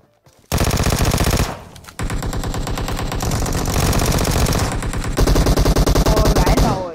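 Loud bursts of rapid automatic AK rifle fire in PUBG Mobile, a short burst then long sustained volleys, close and harsh.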